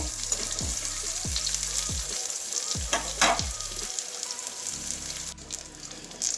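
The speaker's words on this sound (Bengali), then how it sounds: "ওইদিকেও এইভাবেই লাল লাল করে ভেজে নেব।" Eggplant pieces frying in hot oil for an eggplant and egg omelette curry, a steady close sizzle with repeated stirring or turning scrapes, no talking.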